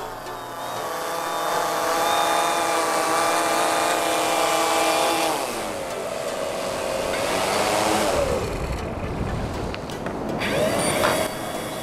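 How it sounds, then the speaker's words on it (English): A Condor fishing drone flies back and comes in to land. Its loud, close propeller whine is steady and multi-toned and shifts in pitch as it slows and descends. No one speaks. "Press the return to home button, comes home."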